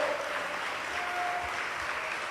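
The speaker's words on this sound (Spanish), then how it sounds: "Dele fuerte las palmas al Dios Todopoderoso." A church congregation claps together in steady, dense applause, a continuous wash of hand claps with no voices standing out.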